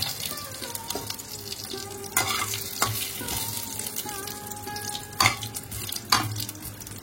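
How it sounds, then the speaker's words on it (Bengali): Two bay leaves and radhuni seeds hit hot oil for a tempering, giving a moderate sizzle with stirring scrapes and a few sharp clanks, and water runs faintly in the background. "এবার আমি 2টো তেজপাতা দিয়ে দিলাম আর রাঁধুনি দিয়ে দিলাম ফোড়ন।"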